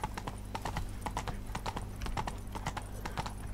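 Horse hooves clip-clopping at a brisk, steady trot in The Witcher 3: Blood and Wine, fairly quiet and continuous, with a faint voice in the background.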